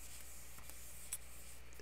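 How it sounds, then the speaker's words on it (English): Marker or chalk rubbed across a board while working through a calculus problem, a soft steady scraping with a brief squeak near the middle, quiet and close with no talking. "let me erase what's down below"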